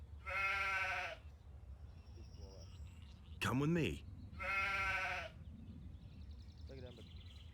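A sheep in the game Gothic 2 bleats twice with short wavering cries, between which a voice speaks briefly over quiet ambient background.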